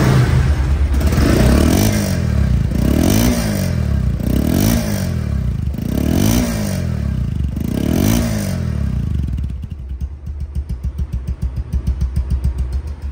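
A Bajaj Pulsar double disc motorcycle engine is revved hard in a rising and falling pattern five times, loud and close, then drops to a rough, pulsing idle.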